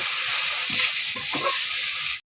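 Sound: frying chopped onion and green chilies in oil

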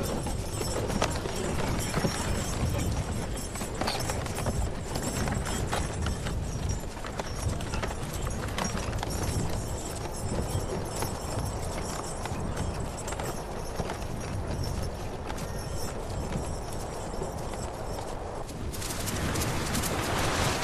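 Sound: horses walking, hooves clip-clopping

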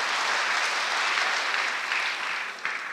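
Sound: applause in church

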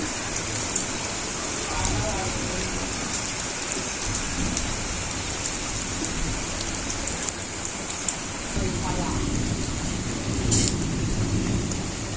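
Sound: rain gradually easing off

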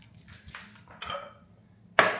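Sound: large ice cubes clinking into a glass for matcha

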